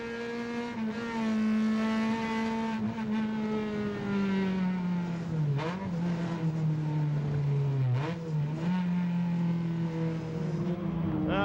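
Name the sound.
rally car onboard engine, heel-toe downshifting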